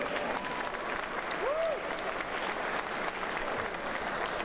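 An audience at the New England Cannabis Convention gives a steady round of applause, dense clapping heard from a moderate distance with a brief whistle partway through.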